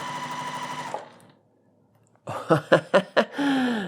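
A sewing machine stitches fabric. Its motor whirs steadily at close range, stops while the fabric is turned at a corner, then runs again in a few short, stuttering bursts before settling into another steady run.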